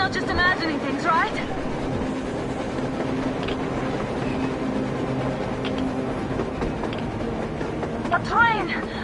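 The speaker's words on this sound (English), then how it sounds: "A train! A damn train on the surface!" A train running on the surface in the video game Metro Exodus, a continuous rumbling roll with metallic clatter, heard mid-distance under voices and other in-game sounds.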